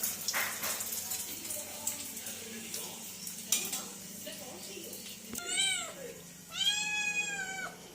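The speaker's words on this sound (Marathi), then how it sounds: "आमच्या घरी मांजर पण आहे" A cat meows twice, close and clear, after a stretch of kitchen clatter and a person talking in the background.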